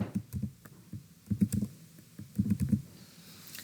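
Typing on a computer keyboard while entering stock-count figures into point-of-sale software: quiet, close clusters of quick key taps in short irregular bursts with brief pauses between.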